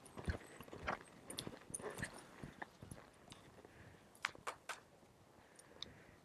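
A horse loping smoothly and freely under a rider, its hooves clip-clopping in a steady, rolling rhythm of close, sharp beats, with a few louder strikes standing out near the end.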